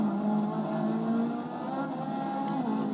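A race car engine in the Forza Motorsport 6 video game at the Catalunya circuit drones steadily and loudly at high revs, its tone dipping slightly mid-way and then climbing again, with no voices.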